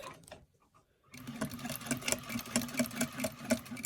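A sewing machine stitches a pleated fabric face mask, starting after a short pause and then running in a fast, even rhythmic clatter close by, with no voices.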